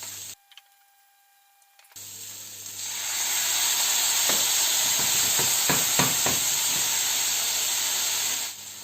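Chard mixture for a chard tart simmering in a pan after a splash of water is added, a steady broad hiss and soft sizzle rising after a brief silence, with a few faint stirring clicks near the middle.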